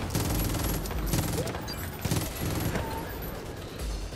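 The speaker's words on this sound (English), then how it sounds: "I think I just shot a rocket in midair" Rapid bursts of gunfire in the shooter game Far Cry New Dawn repeat in quick succession at close range, loud and dense, with background game sounds mixed in.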